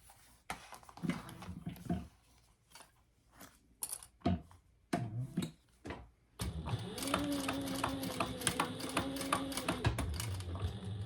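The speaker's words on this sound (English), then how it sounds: "now I'm just going to stitch from here all the way around the top and back down" A sewing machine stitches a vinyl wallet, first in short stop-start bursts with gaps, then running as one steady whirring stretch of fast stitching near the end.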